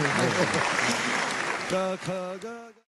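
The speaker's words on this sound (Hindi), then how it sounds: "हिंदी में ताली भी बजाइए" An audience at a comedy event breaks into loud applause that fills the first half. Then it thins out as a voice talks over it and it fades to quiet.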